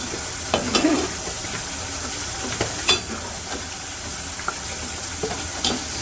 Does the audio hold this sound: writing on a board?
no